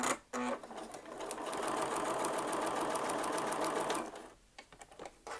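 Sewing machine stitching a quilt block seam at a short stitch length of about 2.3, running steadily for roughly four seconds as a close, even mechanical whir, then stopping into near quiet.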